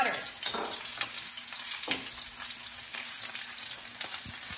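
Butter melts in a hot pan beside a searing steak with rosemary and garlic, a close, busy sizzle with sharp spits and crackles and a few knocks of stirring, with no talk.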